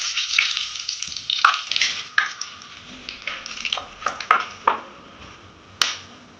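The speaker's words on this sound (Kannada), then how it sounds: "ತುಪ್ಪ ಬಿಸಿಯಾಗಿದೆ. ಸ್ವಲ್ಪ ಗರಂ ಮಸಾಲೆಯನ್ನು ಹಾಕೊಳ್ತಾ ಇದ್ದೀನಿ." Garam masala frying in hot ghee with a little cooking oil, a soft crackling sizzle broken by sharp clinks and taps of a spoon stirring against the pan.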